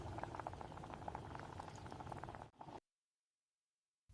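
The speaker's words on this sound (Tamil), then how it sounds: "மீண்டும் மெதுவாக கொதிக்க விடுங்கள்." Masala tea, sweetened with sugar or jaggery, simmers on a stove over medium heat, giving a steady close bubbling burble for about two and a half seconds before cutting abruptly to silence.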